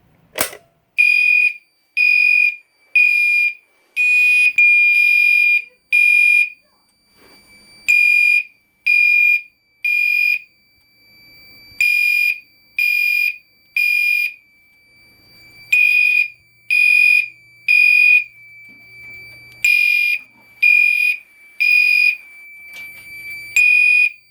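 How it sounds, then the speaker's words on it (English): A smoke alarm sounding during a fire alarm system test blares in loud, piercing bursts of three beeps, repeating in a steady pattern with brief silent gaps between groups. "I will give him a test of the smoke detector."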